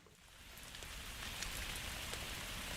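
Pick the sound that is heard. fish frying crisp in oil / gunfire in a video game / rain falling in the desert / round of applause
rain falling in the desert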